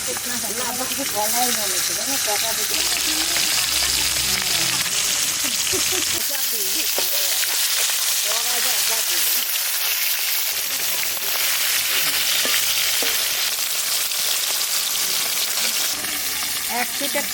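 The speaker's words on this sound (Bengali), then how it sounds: "হালকা ভাজলাম আর এক পিঠ একটু লাল করে ভাজলাম" Food sizzles and hisses steadily in a hot pan throughout, loud and close, as giant taro and shrimp are fried and stirred for a Bengali curry.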